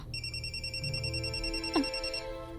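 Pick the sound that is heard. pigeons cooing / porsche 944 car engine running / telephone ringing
telephone ringing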